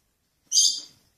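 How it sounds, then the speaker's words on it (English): A lovebird gives a single short, high-pitched chirp that rings out clearly, bright and close, then fades quickly into silence. "If you hear the chirping, that's lovely, the lovebird."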